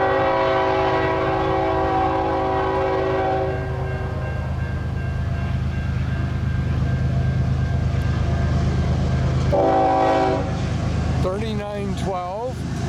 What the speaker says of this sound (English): We have ourselves an eastbound CN train.